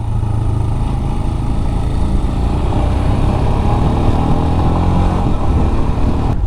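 Royal Enfield Scram 411 single-cylinder motorcycle engine running steadily at low speed, a continuous loud rumbling drone with mild throttle variation and wind noise throughout, no talking.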